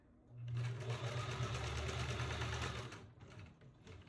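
A sewing machine stitches a fabric scrunchie in one steady, loud, continuous run of rapid mechanical hum lasting a few seconds before stopping.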